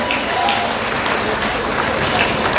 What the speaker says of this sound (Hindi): एक बार मेरे लिए भी तालियां बजाइएगा